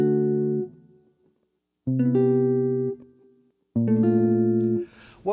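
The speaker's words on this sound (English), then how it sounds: "Listen to the major 7 chords here." Guitar chords of the major 7 type sound one at a time: three sustained chords, each ringing for about a second before fading into a short silence, with no talking.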